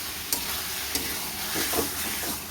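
Fish pieces sizzle and fry in a thick, nearly dried spice masala with tender bottle gourd as a spoon stirs them, giving a soft steady hiss broken by a few sharp scraping clicks.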